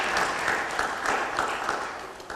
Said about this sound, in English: Round of applause again for Her Excellency Rosa Malango.